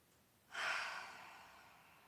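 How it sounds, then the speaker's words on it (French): A single slow exhale through the mouth during a yoga breathing exercise, starting abruptly and fading gently over about a second and a half, close and soft with no speech. "On inspire par le nez, on va expirer par la bouche cette fois-ci."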